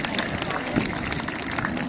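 Crowd applause at the Eastbourne Airshow 2023 during the Red Arrows display: steady, dense clapping from a large outdoor audience, with a voice talking over it.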